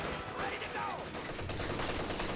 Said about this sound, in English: MG34 does fire and volley there